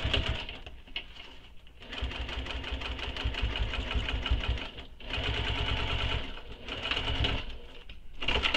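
Domestic sewing machine top stitching through thick, bulky layers of a small backpack, running in three steady bursts of rapid stitching separated by brief pauses, close and fairly loud.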